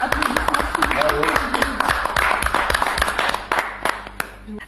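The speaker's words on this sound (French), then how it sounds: "Bravo, applaudissements." A crowd applauds at a mock awards announcement for fake news, a steady wash of clapping under continuous talk, with sharp individual claps standing out near the end.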